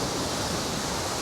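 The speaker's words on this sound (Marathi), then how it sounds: "असं इतक्या जवळून, केवढ्या जवळून धबधबा आहे" A waterfall in Satara roars from very close by, a dense, loud, unbroken wash of falling water filling the whole short moment with no voices.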